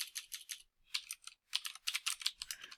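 Keystrokes on a computer keyboard while Python code for ArcGIS is entered, heard as quick bursts of close, crisp clicks separated by short pauses, with no talking.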